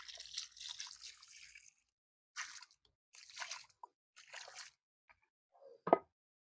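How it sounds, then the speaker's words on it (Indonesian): Water poured onto a soil planting medium mixed for a chayote seedling: several short, close bursts of trickling and dripping separated by silent gaps, ending in one sharper splash, fairly faint overall with no talk. "Sebelum kita menaruh bibit ini, kita siram dulu untuk media tanamnya."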